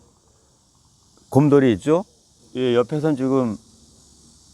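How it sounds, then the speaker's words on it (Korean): Cicadas shrill in a village at the foot of Cheonwangbong on Jirisan. The high, even drone runs unbroken through the whole stretch while someone talks over it in two short bursts. "매미가 울고 있죠?"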